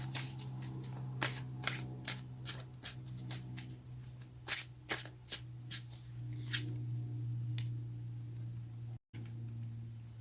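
Tarot cards are shuffled by hand, a series of close, crisp riffles and flicks over a steady low electrical hum, with a brief dropout near the end.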